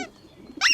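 A pigeon in a garden gives a short bright call near the end, after a quiet stretch of low rustling; close and brief, no voices.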